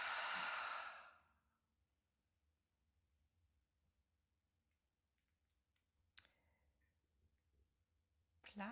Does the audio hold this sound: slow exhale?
yes